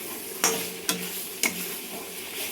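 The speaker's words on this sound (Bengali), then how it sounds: "এবার মাছগুলো দিয়ে আমি আবার একটু কষিয়ে নেব।" Fish being sautéed in a pan of spice paste for a Bengali mixed-vegetable dish with crab, giving a soft steady sizzle broken by three sharp spatula scrapes and clinks, spaced roughly half a second apart.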